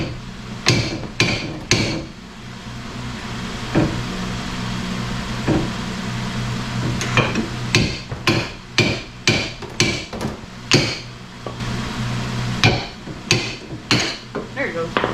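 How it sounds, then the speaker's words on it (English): Hammer blows ring out on the front suspension of a 2007 Dodge Magnum SRT8 during control arm removal: sharp metallic strikes, loud and close, with scattered single hits and then rapid bursts of repeated blows. "now more hammers."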